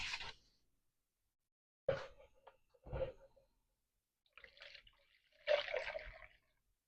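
Vinegar is poured and measured into a cup for preserving peppers, in several short splashing, trickling bursts separated by pauses. The pours are close and fairly quiet, with no talking.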